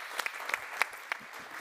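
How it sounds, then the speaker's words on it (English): A conference audience at a foreign policy forum applauds a Vice President's introduction, giving a brief burst of scattered, fairly close claps. "Please give you a warm round of applause for Vice President"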